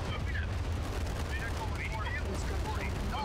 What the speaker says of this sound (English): Let me bring my artillery then